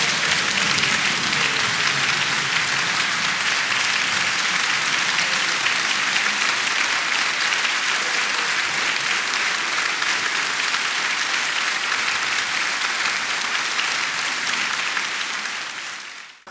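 Sustained, dense applause from deputies in a parliament chamber after a vice-presidential nomination, loud and even from start to finish before cutting off abruptly.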